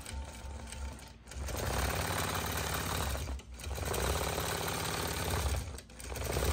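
A Gammill Statler Stitcher Optimum longarm quilting machine stitches a border with a loud, rapid mechanical whir and needle rattle, running in three long bursts separated by brief dips.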